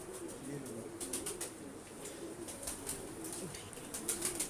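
Pet pigeons kept by a breeder coo softly in a low, soft burble close by, with light wing movement and small rustles scattered through.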